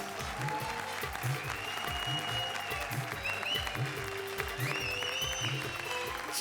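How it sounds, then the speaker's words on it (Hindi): Studio audience applause for comedians Krushna and Sudesh on a comedy show stage, steady dense clapping throughout, with a rhythmic music beat and a few whistles running underneath. "जोरदार तालियां कृष्णा और सुदेश के लिए"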